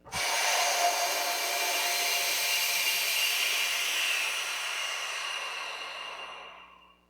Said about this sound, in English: So let me go ahead and release the vacuum.